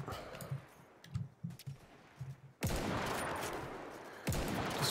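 Musket volley fire in the Mount & Blade: Warband video game: scattered muffled reports are followed by a sudden massive volley that rolls on loudly, then a second heavy burst near the end.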